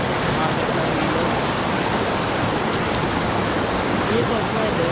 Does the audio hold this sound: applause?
no